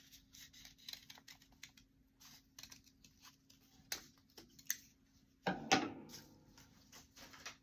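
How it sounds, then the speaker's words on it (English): Scissors cutting a heart shape out of folded paper, a string of soft close snips and paper rustles in a quiet room with a faint steady hum, ending in a louder crinkling handling sound. "you just come up and you cut a heart out"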